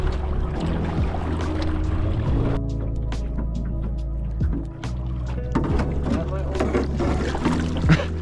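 Kayak paddled across a lake with two halves of a paddle, steady water swishes and dips close by under continuous ambient noise, with a brief quieter stretch midway.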